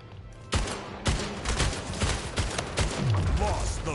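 Gunshots in the video game Splitgate, a few sharp loud bursts spaced across the clip over steady game noise, with a voice talking underneath.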